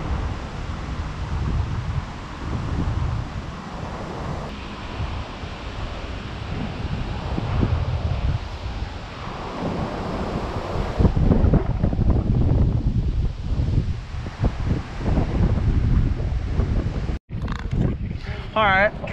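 Gusty wind buffets the microphone outdoors beside a fishing pond, a steady broadband roar that swells and dips throughout, with brief quieter gaps near the end.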